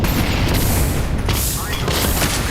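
A grenade explodes in Counter-Strike 2 amid dense, loud boom and gunfire-like blasts that fill the whole stretch, with voices mixed into the din.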